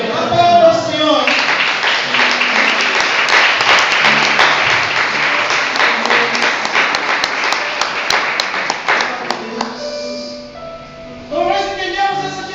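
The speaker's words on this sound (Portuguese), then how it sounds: "Aplauda ao Senhor." A church congregation claps and applauds loudly together, a dense burst that gradually thins and fades, with voices and a preacher speaking over the tail end.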